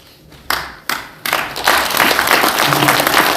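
At an association's annual general meeting, a few isolated claps start sparse and then swell into full, loud applause from the gathered members, sustained to the end.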